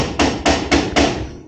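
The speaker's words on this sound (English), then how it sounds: "doing some hammer work" Four loud, sharp hammer blows ring out in an even rhythm, close by, while the wheels are being taken off a car during brake work.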